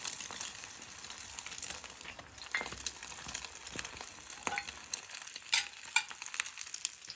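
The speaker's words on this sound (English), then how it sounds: "I'll do the eggs now, guys." Eggs fry sunny side up in a pan while cooking outdoors in Jamaica, giving a continuous close crackling sizzle with scattered pops and spatters, and no voices over it.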